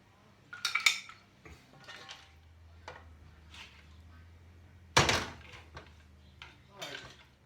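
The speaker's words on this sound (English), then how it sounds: "I'm going to literally dish this up" Spicy mussels being dished up onto a plate, with scattered clinks and scrapes of a spoon against pot and plate, including one louder clatter midway, close and fairly quiet under a low room hum.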